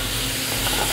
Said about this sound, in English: Now we just saute it.